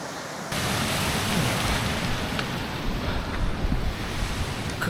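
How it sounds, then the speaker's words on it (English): Water rushing down a mountain stream, a steady broadband wash that starts abruptly after a short quiet moment and stays loud and close throughout, with no talking. "Some water coming down that."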